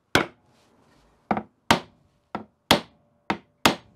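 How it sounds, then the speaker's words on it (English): A nylon hammer taps a vintage dining chair brace seven times in an uneven rhythm, each sharp, close knock dying away quickly, with quiet pauses and no talking. "If there's any problem with that coming apart, you can try tapping it with a hammer."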